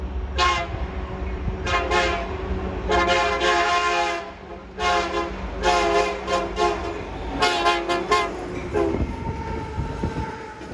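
A train rolls past close by and loud for the whole stretch, its horn sounding in several long blasts with short gaps, a final brief toot near the end over rumbling wheels; no talk.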